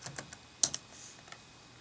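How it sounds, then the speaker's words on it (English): Keystrokes on a computer keyboard entering a Linux update command, a short burst of separate clicks with one sharper tap near the middle, close and fairly quiet, with no talking. "So let me just type this in here, sudo apt-get update."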